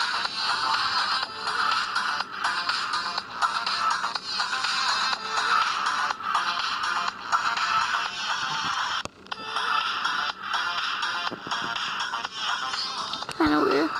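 Cell phone ringtones play loudly and continuously as a bright electronic melody with brief breaks, apparently switching to another tone partway through. No speech is heard.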